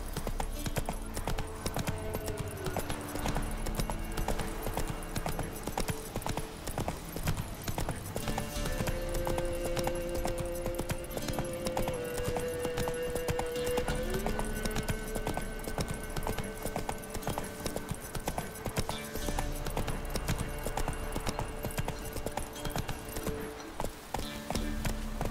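Horse hooves clip-clopping at a fast, steady gallop in The Witcher 3, a continuous rhythmic drumming under game music and occasional spoken lines, lasting throughout.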